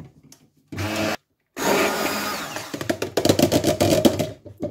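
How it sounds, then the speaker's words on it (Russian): An immersion blender whips liquid cream for an asparagus cream soup with shrimp, loud close whirring in two bursts separated by a brief silence, then rattling and grinding as the blade works the cream. "И будьте предельно внимательны при взбивании сливок, потому что блендером они взбиваются очень быстро."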